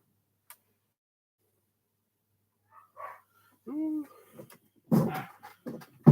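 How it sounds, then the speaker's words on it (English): A dog barks indoors, a brief burst of a few barks at moderate distance, with scattered thumps and a voice speaking around it. "The dog's barking."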